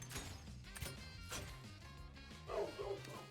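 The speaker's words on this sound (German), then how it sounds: "Oh, ein Hund." A dog barks and yips in the video game Speedrunner, several short woofs spread across the moment over game music and effects, fairly quiet in the mix.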